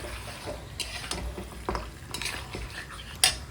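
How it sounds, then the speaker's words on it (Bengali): Meat and potato curry stirred in a pot after black pepper powder goes in, with repeated spoon scrapes and metallic clinks against the pan over a faint sizzle, close and irregular, with no talking. "তো একটু গোলমরিচটা দেওয়ার পরে নাড়াচাড়া করে নিলাম"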